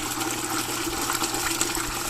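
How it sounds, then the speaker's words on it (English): Murky water from a backyard aquaponics fish tank is poured out in a steady, loud, close gush that runs without a break and with no voices. "Then we'll get the water from the tank."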